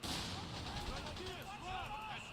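Grenadier gunfire and artillery blasts boom in the Company of Heroes 3 video game, loud and continuous, while in-game voices shout commands over the battle.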